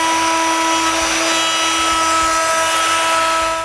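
A power tool routs a chamfer around openings in a wooden garage door panel, a loud steady high-pitched motor whine with a sustained tone and gritty cutting noise running for a few seconds.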